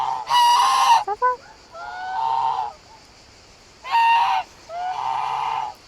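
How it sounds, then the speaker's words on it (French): Geese at an animal refuge honk loudly and close by in several harsh bursts separated by short pauses, with no one talking. "Les oies, c'est vraiment les pires, toujours de mauvais poils, ces bestioles."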